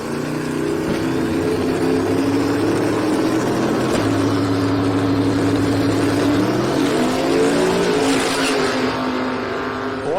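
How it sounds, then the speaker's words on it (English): A Pro Street drag racing car at the Sick Summer event makes a full pass, its loud, sustained engine roar climbing steadily in pitch through the run, with distant tones rising toward the end. "It looks like Timothy Blythe might make a full run here"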